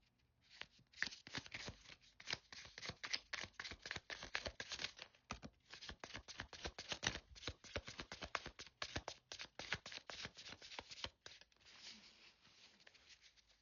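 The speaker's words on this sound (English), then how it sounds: "I'm going to go ahead and shuffle" Tarot cards riffle and slap together in rapid, steady bursts of crisp papery shuffling, close and continuous with only brief pauses.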